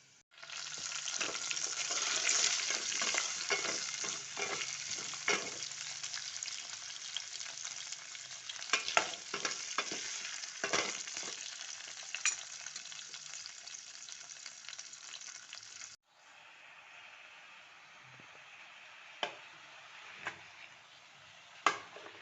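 Steady, loud sizzling of potatoes and spinach frying in a pan, with intermittent stirring clatter; the sizzle drops in level partway through and continues more softly.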